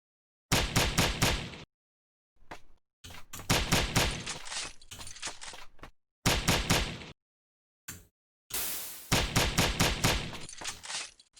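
Gunfire in the video game Hadal Calm: loud, close bursts of rapid automatic shots, fired in several separate volleys with short silent gaps between them.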